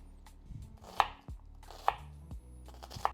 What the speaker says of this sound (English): Gonna chop the rest of the onion that we left for the salsa.